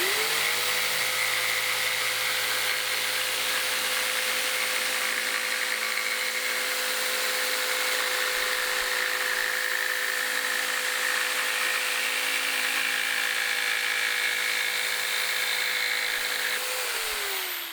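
A jigsaw cuts steadily through a wooden board, its motor whining at a constant pitch for about sixteen seconds before winding down, loud and close with no talking.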